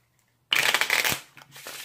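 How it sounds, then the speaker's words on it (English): A deck of playing cards is shuffled in one loud burst, a dense riffle of rapid flicking clicks that then trails off into softer, scattered card handling, close to the microphone with no talking. "give them pretty much a standard shuffle 2 to 4 times."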